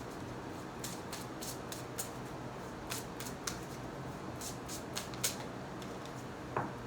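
Tarot cards are shuffled and handled close up during a reading, heard as soft, scattered crisp flicks and riffles over a quiet hiss, with one sharper snap near the end.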